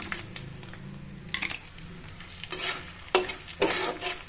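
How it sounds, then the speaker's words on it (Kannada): Chilies frying in hot oil in a pan for a churumuri snack, a steady sizzle broken by bursts of louder crackle and stirring scrapes, close and without talk. "ಮೆಣಸಿನಕಾಯಿ ಎಲ್ಲ ಫ್ರೈ ಆಗ್ತಾ ಇದೆ"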